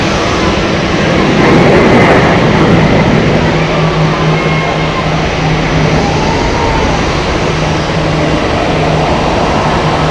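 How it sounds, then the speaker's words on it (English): An Airbus A350-900 airliner on approach to land at Zurich Airport gives a loud, broad roaring rush that swells and then holds steady, set against open outdoor ambience. "Beautiful sight there of the A350 coming in to land"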